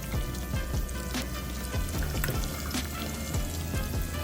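Finely chopped onion sautés in a pan of olive oil and butter, producing a crackling, spitting sizzle with scattered pops, steady and close with no talking.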